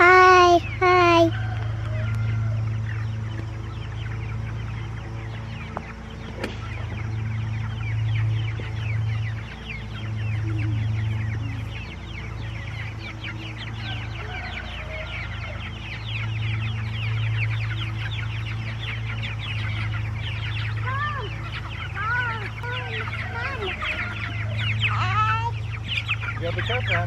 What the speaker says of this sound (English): first let's move our chickens.